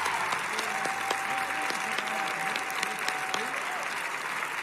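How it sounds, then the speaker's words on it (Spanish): Steady audience applause in a Got Talent Argentina studio, dense clapping with a sustained tone and voices mixed in beneath it. "Un aplauso para Abel emocionado."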